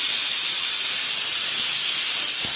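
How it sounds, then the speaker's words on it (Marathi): A pressure cooker cooking khichadi releases steam in a loud, continuous high-pitched hiss and whistle that holds steady throughout, with nothing else heard. "3 शिट्ट्या होईपर्यंत थांबा"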